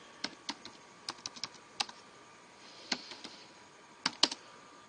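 Scattered keystrokes on a computer keyboard, close and fairly quiet, coming in short irregular bursts with brief pauses while someone types text; no voices.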